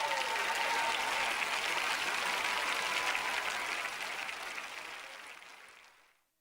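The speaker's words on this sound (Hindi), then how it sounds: "चलो तो आप जोर से तालियां बजाइए।" A church congregation claps loudly in a thick, sustained burst that holds steady, then tapers and fades out toward the end.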